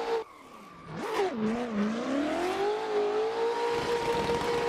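Sim racing drift car with the e-brake pulled, tyres skidding and squealing over a steady engine drone that swoops in pitch, then holds a sustained rev; loud and close with no talking.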